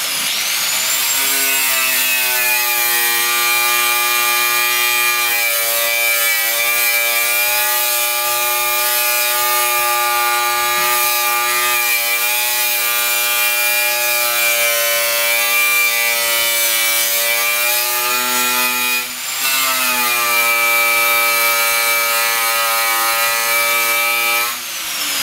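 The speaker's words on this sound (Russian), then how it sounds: "С помощью болгарки с металлическим кругом начинаем очищать все косячные места." A loud, steady high-pitched whine of an angle grinder with a wire wheel cleaning rust off metal, running continuously, with a brief dip near the end before it spins back up.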